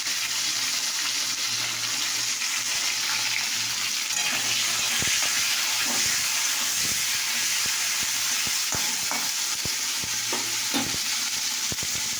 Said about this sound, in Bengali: ফুলকপিটা একটু ভেজে নিয়েছি